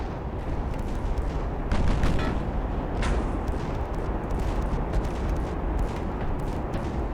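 Rapid naval secondary gunfire in the Ultimate Admiral: Dreadnoughts warship game, a dense, continuous barrage of overlapping booms and cracks with a few sharper reports standing out, loud and steady throughout with no talking.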